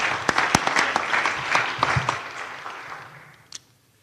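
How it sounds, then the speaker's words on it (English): A crowd applauds in a burst of clapping that gradually thins out and fades, with a few last claps near the end. "let's give him a huge round of applause"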